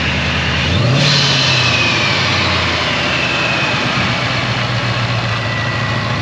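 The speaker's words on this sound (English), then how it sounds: "Just idles like it should. No clunking, no weird noises to note. Idles nice and smooth." A supercharged 5.0 V8 Aluminator engine in a 2012 Ford Mustang GT starts with a brief rev, then settles into a loud, close, smooth idle with a steady deep rumble and supercharger whine.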